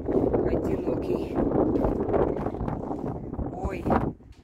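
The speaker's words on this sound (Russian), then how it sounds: "Ой, вы тоже слышите этот ветер?" Wind gusts across an open savanna hillside, buffeting the microphone in a loud continuous roar that drops away abruptly near the end, with a voice speaking faintly beneath it.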